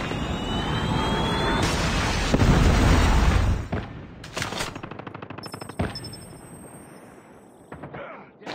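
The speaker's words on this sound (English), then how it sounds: "Friendly Predator missile inbound." Explosions and gunfire from a Predator missile strike in the mobile shooter Call of Duty Mobile, Hardpoint mode on the Firing Range map: a loud sustained blast and rumble in the first half, then scattered sharp shots and thuds that fade out.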